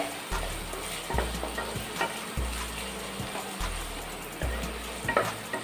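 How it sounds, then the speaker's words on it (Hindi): Finely chopped onions fry in a pan with a steady, close sizzle, while a spoon stirs and scrapes the pan in a regular rhythm of low pulses. "तो अब हम इन सभी को अच्छी तरह से भून लेंगे।"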